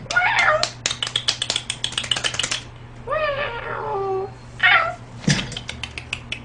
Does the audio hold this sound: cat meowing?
yes